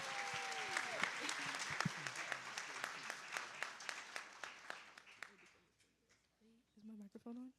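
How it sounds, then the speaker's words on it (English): Audience applause at an evening author talk, a dense burst of clapping that gradually thins and fades over several seconds before a voice speaks at the end. "let's give them a big round of applause"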